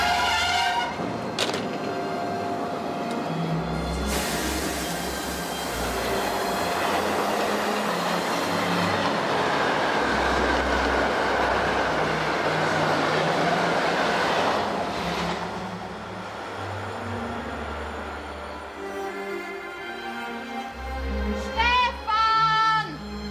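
A train pulls into a German railway station, a broad sustained rumble of wheels and carriage noise building and holding for most of the stretch before easing, with a few brief higher tones near the end.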